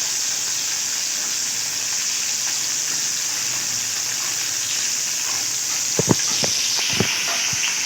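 A hilsa fish head frying in a pan makes a steady, loud, close hiss of sizzling oil, with a few sharp clinks near the end and no talking.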